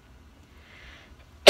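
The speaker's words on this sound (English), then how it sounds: "I'm gonna sneeze 1 second." Near silence, then one sudden, loud sneeze right up close at the very end.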